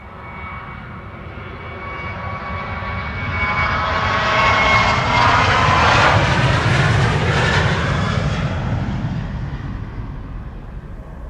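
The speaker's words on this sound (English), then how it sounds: "KLM flight 1251 to bloody Helsinki in Finland" KLM jet airliner on flight 1251 to Helsinki at Amsterdam Schiphol, a loud broadband engine roar building as it passes close, with sweeping whine tones and a sustained rumble that eases off toward the end.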